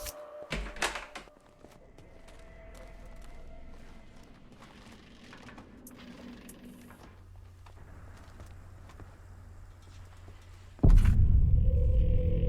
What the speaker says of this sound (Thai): เดี๋ยวมาเปิดเซฟก่อนนะครับ